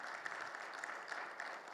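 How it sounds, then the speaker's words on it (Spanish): A church congregation at a Bible seminar claps in a brief, dense burst of applause, fairly close and steady with no voices over it. "¿Cuánto dan un fuerte aplauso,"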